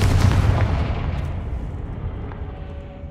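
A Confringo fire spell from Hogwarts Legacy sets off a loud, deep rumbling explosion at the start that slowly fades over a few seconds.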